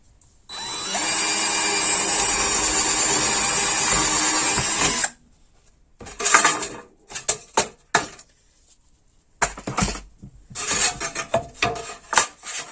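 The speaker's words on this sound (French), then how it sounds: "Donc je vais percer n'importe où, peu importe." A power drill bores holes for a rivet, first with a sustained whine of about four seconds, then in a series of short, loud bursts separated by pauses.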